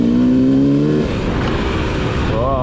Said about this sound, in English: we're going to go on a test ride and just get used to the characteristics of the engine and see how this thing performs